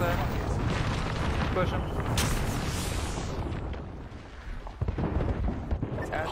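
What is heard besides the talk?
artillery strike explosions in the video game Apex Legends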